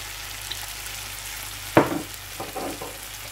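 Sardines and fish sauce hit a hot pan of sautéed bitter gourd with a sudden close sizzle burst, followed by a few softer crackles over a steady low frying hiss.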